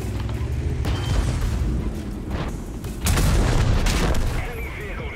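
A tank blows up in World of Tanks, its explosion a loud, dense boom with a second heavy burst about three seconds later, over constant rumbling battle noise and mechanical clatter.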